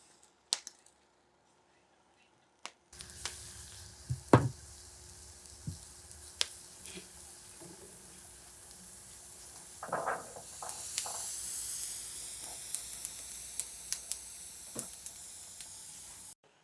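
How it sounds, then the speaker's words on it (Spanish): Tomatoes, onion and garlic roast on a hot griddle, giving a soft, continuous sizzle and hiss broken by scattered clicks and knocks after a quiet start, with no talking. "Ahora voy a poner a asar los jitomates y la cebolla y los ajos."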